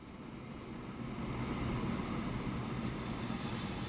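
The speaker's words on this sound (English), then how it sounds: "In comes that train." A train rolls into a station in the video game Transport Fever 2, its low rumble swelling steadily and holding at a loud, continuous level with no talk over it.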